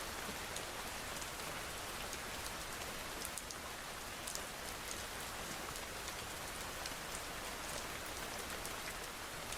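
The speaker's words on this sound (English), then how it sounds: "rain and thunder sounds." Steady, loud rain ambience pours down continuously, a dense wash of drops on surfaces with no clear thunderclap standing out, replacing muted music during a live art stream.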